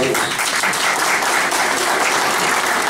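Applause at an AK Parti district council meeting in Kızılcahamam: a room full of people clapping loudly and steadily, with no pause over the short stretch.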